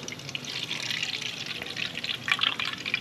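Lukewarm water poured into a bowl while making dahi bhalle, a steady trickling splash with small drips that runs the full three seconds and swells slightly near the end.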